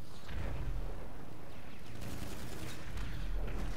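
Gunfire in the video game GTA Online, a dense continuous rattle of shots with bursts swelling toward the end, loud and unbroken without speech.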